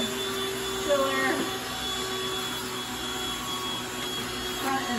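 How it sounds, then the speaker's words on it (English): Vacuum cleaner running steadily over an aquarium chiller, a constant mid-level whine and hum with a few faint thumps and tonal shifts as the nozzle moves, no talk over it. "I also recommend just doing a quick vacuum of your chiller"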